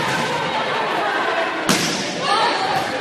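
A volleyball roll shot in a varsity high school match in a gym makes a sharp thump against a steady crowd roar, and a commentator talks over the rally.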